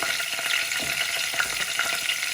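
Fenugreek and cumin seeds fry in hot oil for a stingray fish curry, giving a dense, close crackling sizzle with rapid small pops throughout a brief burst.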